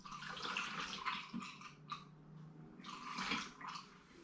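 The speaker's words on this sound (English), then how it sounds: "I'm going to add a little bit more spring water just to raise it up very slightly more." Spring water is poured into a vessel of raspberry and rhubarb cider, coming in a few quiet splashing bursts with brief pauses between them, close and soft.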